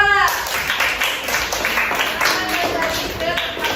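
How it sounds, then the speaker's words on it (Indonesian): A classroom of students clapping for a student group, scattered uneven claps at close range with voices talking over and between them. "tepuk tangan buat kelompok 2"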